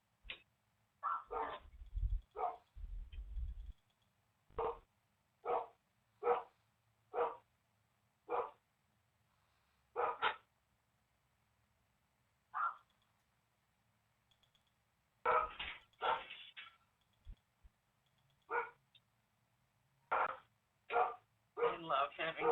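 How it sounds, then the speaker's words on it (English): Guard dogs barking in sharp, separate woofs and short bursts spread across the whole stretch, some doubled or clustered, clear and fairly close with quiet gaps between. "I love having guard dogs."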